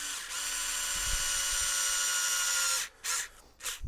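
A power drill runs steadily for nearly three seconds, driving four screws to refit a 3D-printed upgrade part onto a large RC car such as a Traxxas X-Maxx, then stops and gives two short bursts.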